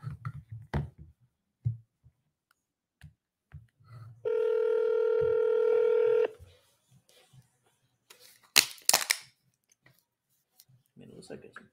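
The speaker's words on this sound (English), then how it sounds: "Let me try calling this again." On speakerphone, a telephone call is placed: scattered clicks and brief talk come first, then one steady electronic ring tone holds for about two seconds before cutting off, followed by more faint noises.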